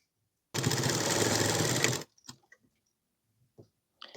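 Sewing machine stitching a kitchen apron, one steady fast whirring run of about a second and a half, close and clear, followed by a few soft clicks and handling taps.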